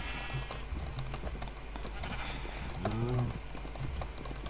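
Minecraft sheep and cow sounds: a couple of short bleats and moos from the farm animals being herded into a pen, over steady game background noise with no speech.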